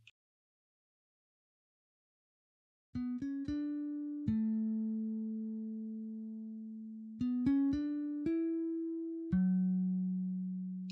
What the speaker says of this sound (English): next we have this one, ample bass guitar. So let's take a listen.